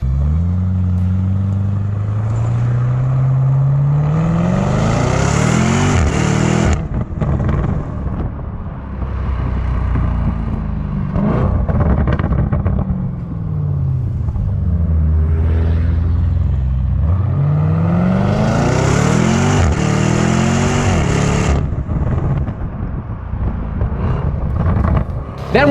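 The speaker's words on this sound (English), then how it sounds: "We've also got a quad-tipped exhaust that looks very Lamborghini. And I think we should probably listen to how that sounds one more time." A 2019 Lamborghini Urus revs through its quad-tipped exhaust, with several loud rising and falling engine swells close by and a deep rumble between them.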